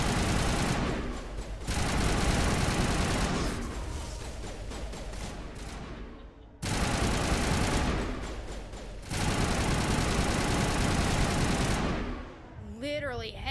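Rapid sniper rifle gunfire in the Mass Effect video game, loud dense bursts of shots in two long volleys separated by short pauses, with someone talking over the action.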